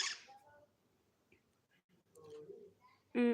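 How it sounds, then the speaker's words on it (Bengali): Pet birds, including a parrot, give soft calls and a few brief chirps in a quiet room, with a louder squawk at the end. "আমার পাখিরাও ডাকতেছে ওরাও কথা বলতেছে ওদের ভাষায়"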